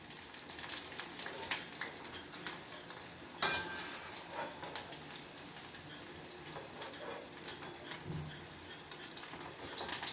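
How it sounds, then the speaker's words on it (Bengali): Paneer pieces fry in oil with a soft, fairly faint and continuous sizzle, broken once by a sharp clatter, with irregular small crackles throughout. "এভাবে বাকি পনিরগুলো ভেজে নেব।"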